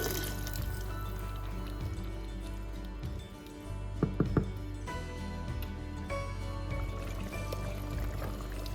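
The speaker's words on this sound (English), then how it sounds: "Next, add in 1 cup of a good dry white wine and bring it back up to a simmer." Dry white wine is poured into a pan as a gentle, continuous liquid pour and sizzle over a steady kitchen hum, with a few small drips and clinks midway.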